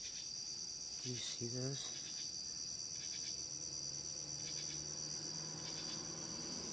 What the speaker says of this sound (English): they're just regular crickets